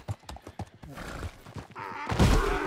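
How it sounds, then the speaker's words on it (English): A donkey in Red Dead Redemption 2 trots with a quick run of clip-clop hoofbeats, followed by a loud, harsh bray that swells up near the end, all close and clear, with no voices over it. "Okay, we're getting on the donkey."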